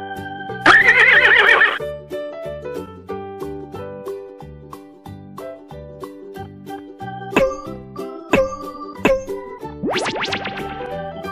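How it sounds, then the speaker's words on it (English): A horse whinnies loudly near the start and again near the end, with gentle music and chiming notes playing in between. "Horse."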